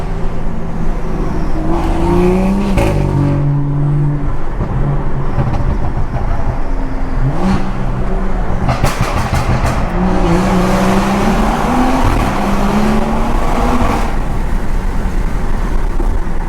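A BMW 340i pulled hard through a downtown tunnel, heard from inside with the window down: loud, close engine roar rising and falling across several surges in revs, with brief sharp transients between pulls.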